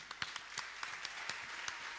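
An audience in a teahouse claps for an ashik performer: sparse, sharp handclaps scattered unevenly, quiet and fairly distant, with no voices on top.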